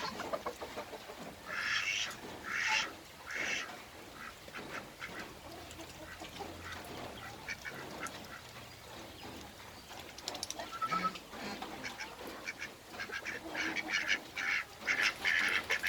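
Ducks and other farmyard fowl quack and honk in repeated bursts during feeding, near and fairly loud, with a person calling to them at times.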